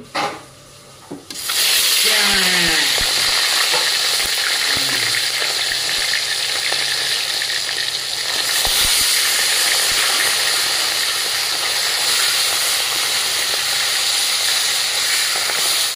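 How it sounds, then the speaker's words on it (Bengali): Pieces of rohu fish, including the heads, go into hot oil in a wok: after a few clanks and a quiet moment, a loud, close, continuous sizzle and hiss erupts and holds steady, with occasional utensil knocks. "হ্যাঁ, এরপরে এই মাছ তুলে ছাড়বো"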